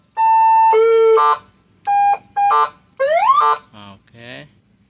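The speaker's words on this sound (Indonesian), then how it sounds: "Oke, ini terus untuk saklar tombol ke sirine." Electronic telolet horn with siren fitted to a Daihatsu Terios, playing loud clean melodic tone bursts in quick separate blasts, then rising siren sweeps and a short warbling pulse, close and alone.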